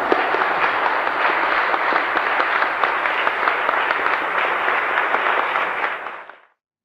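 An audience applauds after a speech at a panel on creativity and human culture. The clapping is loud and dense and holds steady for about six seconds before fading out.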